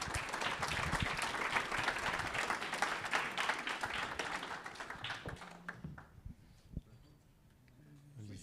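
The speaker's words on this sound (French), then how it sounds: "On peut les applaudir aussi." A conference audience claps in a dense, lively burst for about five seconds, then the applause thins out and dies away, with a few voices heard afterward.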